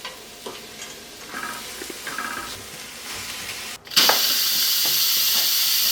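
Onion sizzling and frying in a pan with some stirring, a low crackle that jumps to a loud, steady hiss partway through as more goes in.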